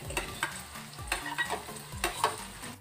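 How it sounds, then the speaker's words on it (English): Onion and garlic sautéing in a pan for a Filipino stir-fried kangkong and tofu dish, sizzling steadily with repeated scraping stirs of a utensil against the pan, close and alone. "The next thing is to saute the onion and garlic."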